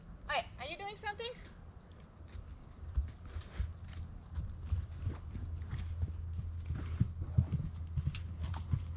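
Hooves of a horse moving into a canter thud rhythmically on the ground, growing louder and more frequent toward the end, with a brief voice at the start and faint insects chirping behind.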